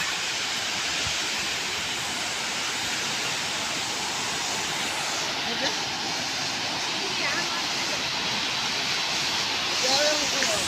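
A waterfall at a beach tourist spot in Rajkot pours with a constant, even rushing hiss from start to finish. Faint voices sit underneath the flow.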